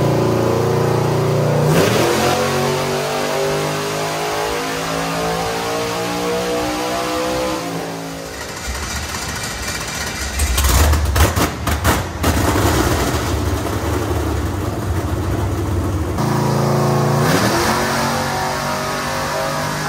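A car engine running on methanol fuel revs hard through repeated dyno pulls on a chassis dynamometer. Loud rising sweeps alternate with drops, and there is a crackling stretch midway.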